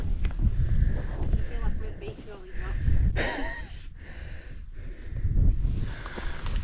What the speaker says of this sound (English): Wind's getting up a little bit